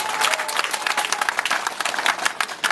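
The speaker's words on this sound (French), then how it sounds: "Je voudrais qu'on applaudisse très fort le docteur Koné." Crowd at a gathering applauding loudly for Doctor Koné, dense sustained clapping throughout, close and energetic, with no talk over it.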